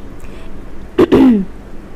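A single sharp cough up close, followed right away by a rough throat-clearing rasp, in an otherwise quiet room.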